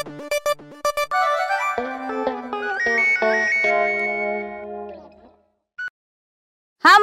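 An electronic ringtone melody plays through a phone speaker with a few short tones, then cuts off and leaves brief silence before more tones.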